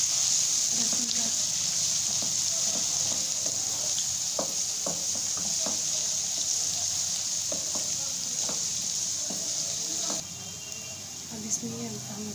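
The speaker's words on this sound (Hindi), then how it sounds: "इसको हम 1 से 2 मिनट के लिए फ्राई कर लेंगे घी में, ताकि इसको कच्चापन खत्म हो जाए लहसुन का।" Garlic frying in ghee in a pan gives a steady, bright sizzle with occasional stirring clicks and scrapes, continuing throughout at moderate volume.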